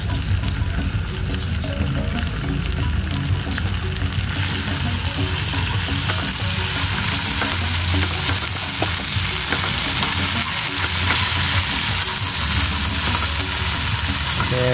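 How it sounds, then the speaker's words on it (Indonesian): A small amount of cooking oil sizzles steadily in a pan as ingredients are stir-fried, a dense, continuous crackle with the occasional scrape of stirring, close and fairly loud, with no talking. "Lalu kita langsung tumis."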